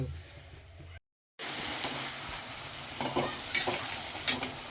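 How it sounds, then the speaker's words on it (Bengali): Chopped onion fries in a pan for a wedding-style mutton curry, sizzling steadily after a brief silence while a spatula scrapes and stirs in a few sharper bursts. "পেঁয়াজটাকে খুব ভালো করে ভেজে নিতে হবে"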